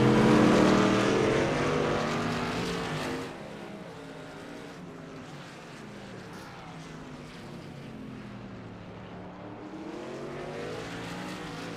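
Racing trucks roar around the COTA circuit, a loud engine drone passing close at first, then fading into a steadier, more distant rumble of several vehicles.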